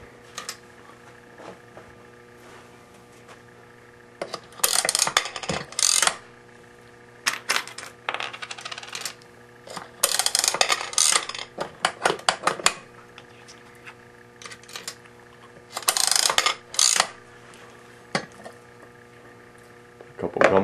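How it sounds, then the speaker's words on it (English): Pennies run through a vintage gumball machine mechanism, clinking metallic coin drops and mechanical clicks in scattered bursts separated by quieter gaps, close up. "We'll run a couple pennies through it,"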